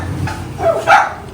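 A couple of dogs bark and yip in a short burst, fairly loud and nearby, over a low background hum.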